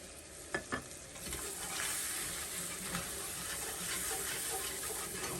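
Flour cooks in a pan of beef drippings for gravy, a soft, close sizzle with scraping stirs and two quick spoon taps near the start, quiet and without speech.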